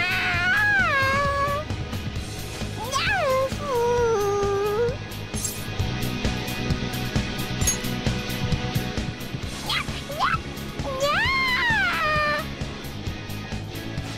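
A cat character in the PS4 Pro game Persona 5 meows and yowls repeatedly in excited, rising cries, several in quick bursts over background game music, with no talk.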